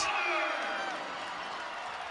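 Basketball arena crowd at a Detroit Mercy versus Oakland college game roaring and cheering after a score, a dense, steady wall of noise that fades slightly over two seconds.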